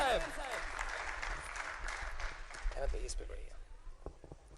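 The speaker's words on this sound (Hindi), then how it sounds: "आपकी भरपूर तालियों में तशरीफ लाते हैं" Audience at a mushaira poetry gathering applauds as a poet is welcomed to the stage, a full burst of clapping at the start that gradually thins and fades toward the end, with some crowd murmur mixed in.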